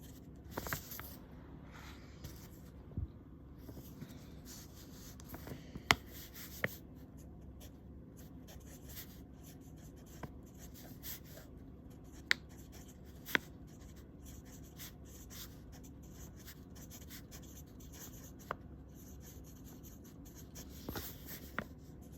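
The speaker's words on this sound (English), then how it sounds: "I'm going to go do some writing now" A fountain pen with a Lamy nib writes with Diamine Rustic Brown ink, a faint, close, continuous scratch on paper with occasional small taps and clicks.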